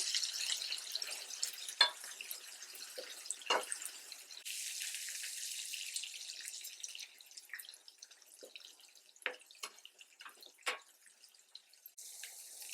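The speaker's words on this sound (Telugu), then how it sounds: "ఎల్లుల్లిపాయలు ఎక్కువ వేసుకోవాలి మనం ఇది దూరంగా వేయించుకోవాలండి" Chopped garlic frying in oil in a pan for tomato dal curry, heard as a light sizzle with scattered crackles and pops, close but fairly quiet, and no one talking.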